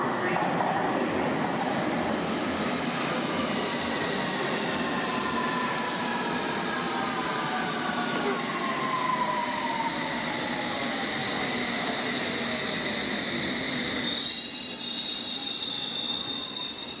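London Underground S7/S8 stock train running, a loud continuous rumble and rushing roar with long wheel squeals sliding in pitch, then a sharp high tone near the end.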